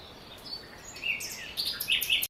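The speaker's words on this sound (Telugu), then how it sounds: "సో పక్షి అనేది తిరుగుతుంది, సో దాని పిల్లనే కావచ్చు ఇది." A mother bird circles near her fallen chick, giving short high chirps and tweets that grow more frequent toward the end, fairly faint over quiet outdoor background with no talking.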